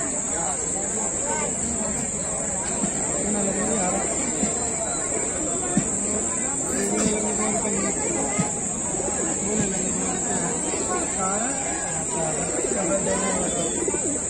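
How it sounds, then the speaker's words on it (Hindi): Pigeons coo at a busy pigeon market in Taharpur, Moradabad, their soft throaty calls repeating steadily beneath constant crowd chatter and a persistent high electronic whine, with people talking nearby throughout. "देखिए आप बहुत सारे कबूतर हैं घर पे भी"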